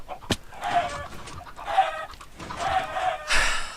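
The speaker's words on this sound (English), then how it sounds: "the water's pushing all the chickens in" Chickens clucking in Minecraft Skyblock, several short rhythmic bursts of clucks repeating about once a second, clear and close, with a sharp click at the start.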